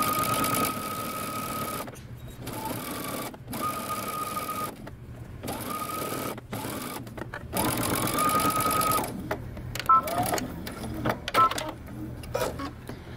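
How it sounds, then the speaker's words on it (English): A sewing machine stitches close to the edge of a dress facing, whirring in several short bursts separated by brief stops, fairly close and steady. "you're going to stitch close to the edge."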